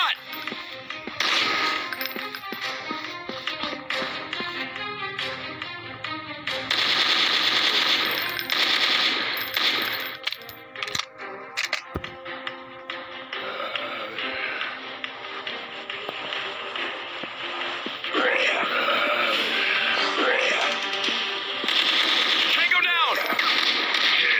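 Rapid automatic gunfire and machine-gun bursts keep going almost without pause while shooting zombies in the mobile FPS game Dead Survival, loud and dense throughout.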